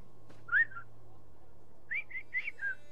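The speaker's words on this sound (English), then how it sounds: "I'm not a dog. Stop whistling at me, dude." A game character in The Elder Scrolls Online gives clear, melodic whistles: one short rising phrase, then after a pause a quick run of four whistled notes, crisp and close over a quiet background hum.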